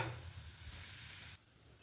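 Urad dal fries in hot oil in a pan, giving a soft, steady sizzle and hiss at low volume that carries on evenly with no talking.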